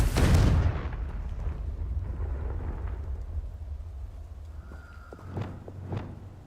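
A Confringo blasting spell in Hogwarts Legacy bursts at the start with a loud, booming explosive crack that rolls off into a long rumbling decay, followed by a couple of faint magical chimes later.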